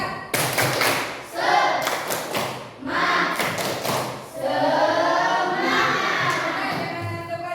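A class of students in a classroom performs a rhythmic spirit clap (tepuk semangat), with loud, sharp bursts of group clapping in a patterned beat. Shouted voices join in toward the end.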